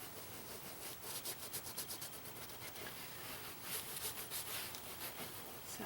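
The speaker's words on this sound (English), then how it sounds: "So we're just going to keep rubbing, gently rubbing." Fingers rub wet paper off a glued surface under an acrylic fruit painting, making a gentle, rhythmic scrubbing that comes in bursts of quick strokes, close and fairly quiet.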